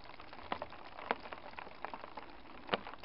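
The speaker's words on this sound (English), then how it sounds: "It's raining. And it has been raining since about 2 minutes after I put up this tarp." Rain pattering on a camp tarp at an Algonquin campsite, a soft continuous patter with scattered sharper drops landing at irregular intervals, quiet and close.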